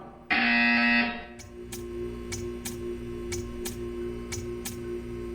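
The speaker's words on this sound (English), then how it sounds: "You will hear a buzzer." A loud electronic buzzer in Portal 2 blares for about a second, then a steady hum remains with a series of soft, evenly spaced ticks.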